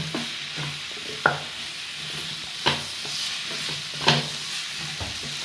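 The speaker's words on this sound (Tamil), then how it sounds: "நல்லா எண்ணெயிலே காய் நான் வதங்கி வரட்டேங்க" Mixed vegetables sautéing in oil for a gravy, a steady close sizzle broken by several sharp scraping stirs of a spoon against the pan, no talking.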